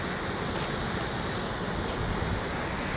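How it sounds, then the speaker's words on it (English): Rapids on the Firehole River rush by in a constant broad wash of churning water, loud and steady with some wind buffeting, and no voices. "But some more rapids here"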